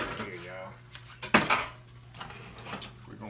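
A whisk clattering and scraping in a pan of pineapple juice glaze for a honey-glazed ham, with one louder burst of metallic rattling amid brief soft clinks and a faint voice nearby.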